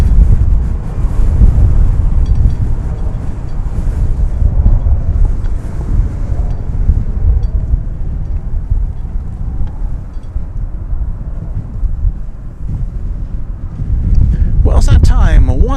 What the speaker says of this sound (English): Wow, this wind! I'm gonna be blown to Oklahoma City pretty soon.